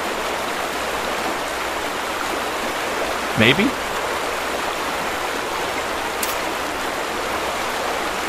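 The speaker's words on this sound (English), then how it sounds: "that runoff section that I just talked about is gonna start to pour over right here" Water from a dam's runoff section pours in the video game The Vanishing of Ethan Carter, a steady, loud, broad rushing roar that continues throughout, briefly overlaid by a short spoken word.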